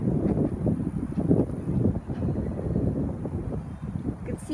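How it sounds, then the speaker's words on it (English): Strong tropical storm winds whip trees around, a steady roaring rush with gusting surges that never let up over the whole stretch. "You can see how strong these winds are, just whipping the trees around"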